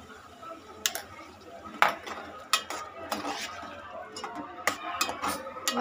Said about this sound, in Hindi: मसालों को हम अच्छी तरह से भुनेंगे।